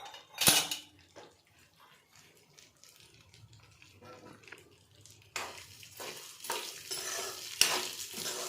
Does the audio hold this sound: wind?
no